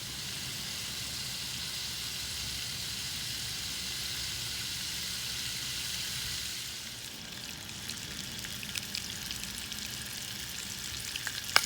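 Food fries over a Dakota fire hole outdoors, a steady close sizzle running unbroken, then thinning into scattered pops and crackles near the end, with no talk.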